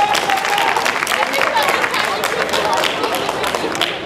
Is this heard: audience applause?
yes